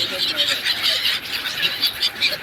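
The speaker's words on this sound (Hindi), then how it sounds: "वो जो बर्ड्स की आवाज़ होती है ना, बड़ी अच्छी लग रही है कानों को।" Birds call in a busy flock gathering for scattered grain, a steady mass of high chirps and squeals, loud and close, with no one speaking over it.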